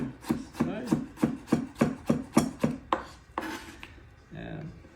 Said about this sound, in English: With the daikon, we're just going to get our knife and do some beautiful little strips